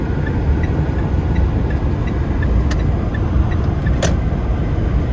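A car drives into a campsite at Saraburi, with a steady, loud, close rumble of the engine and tyres throughout and a few faint clicks, no talking.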